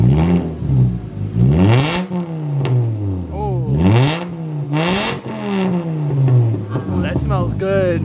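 A PT GT, a Chrysler PT Cruiser GT, freshly fitted with a 4-inch exhaust tip, revs up repeatedly in loud, rising and falling bursts close by, with people talking over and between the pulls.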